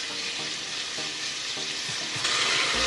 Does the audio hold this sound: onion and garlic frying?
yes